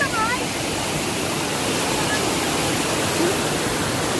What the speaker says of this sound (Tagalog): Nandito kami ngayon sa falls.